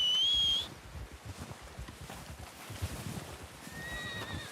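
A horse in the Red Dead Redemption 2 video game gives a short high whinny up front, followed by soft hoof clip-clop, with more faint whinny tones near the end.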